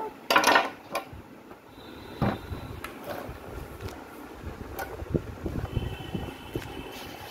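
Chopped red potatoes being washed in a pot, with water sloshing, sharp clinks and clatter of the pot near the start, then softer irregular splashing and scraping against a breezy background.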